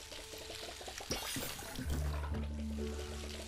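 Water pouring in the video game Palia, a short splashing trickle that swells into a fuller gush, fairly quiet and soft, with a few faint game tones and no talk over it.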